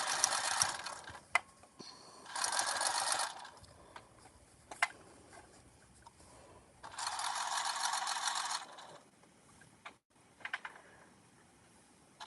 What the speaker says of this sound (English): Back up one stitch. And then we are going to sew this closed at the bottom.